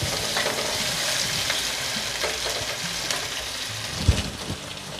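Chopped onions and curry leaves fry in hot oil for an Andhra-style kaddu ka salan, giving a steady close sizzle and crackle with a soft stir or bump near the end.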